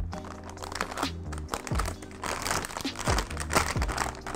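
Plastic protective film crinkles and crackles as it is peeled off a Palit RTX 2080 Super GameRock graphics card, close and fairly loud, with repeated tearing pulls and a low hum underneath.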